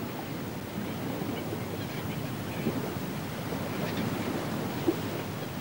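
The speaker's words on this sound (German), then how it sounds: "Hier brechen die Wellen." Ocean surf breaks on a coral reef between a lagoon and the open sea, a continuous wash of waves roaring under wind noise at moderate distance, with no voices.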